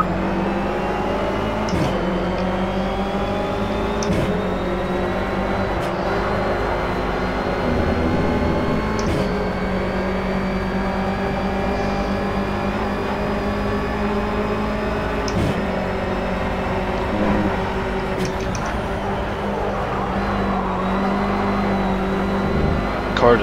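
A race car engine in Project CARS drones steadily through a wet-weather lap, revs rising and falling with gear changes and occasional sharp shifts, loud and continuous while a commentator talks over it.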